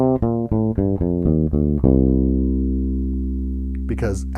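Electric bass plays a run of short plucked notes in an even rhythm, then settles on a long sustained interval of a minor seventh that slowly decays; a brief voice fragment appears near the end.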